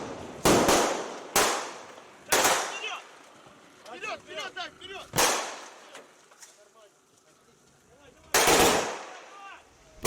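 Sharp gunshots ring out during a port counter-terrorism drill as combat swimmers surface and fire on terrorists aboard a seized vessel, with loud isolated reports at irregular intervals over background activity and a few brief bursts.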